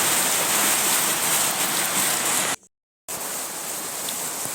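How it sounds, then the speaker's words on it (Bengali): Heavy rain pours down in a steady, dense rushing wash, briefly cut to silence for half a second before resuming at the same strength. "কিন্তু আবার দেখো প্রচণ্ড বৃষ্টি"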